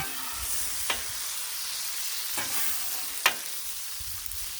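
Turkey burgers sizzle on a Blackstone flat-top griddle with melted butter, a steady close frying hiss punctuated by a few sharp spatula clicks and scrapes.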